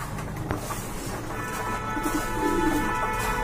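Fancy pigeons cooing in a loft as they grow restless for food, soft overlapping coos over a steady background hum with no talk.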